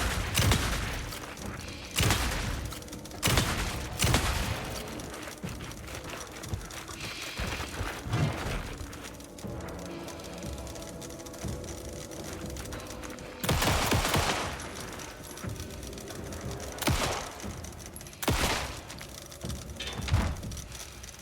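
Shotgun blasts in the survival horror game Alan Wake 2, loud separate booming shots spaced irregularly across the stretch, several in quick pairs, over a murky ambient background.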